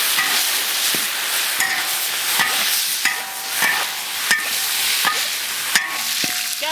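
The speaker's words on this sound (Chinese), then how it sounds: "下入20多克的冰糖，给它炒个糖色" Rock sugar, about twenty grams, frying and bubbling in oil in a wok to make caramel colour for red-braised pork belly, a steady close sizzle with intermittent sharp scrapes and clicks of a stirring spatula.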